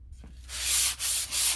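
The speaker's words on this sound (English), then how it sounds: "sorry for the sanding noise" Sandpaper rubs along the edge of a decoupage tray in quick, harsh back-and-forth strokes, close and loud with brief dips between passes.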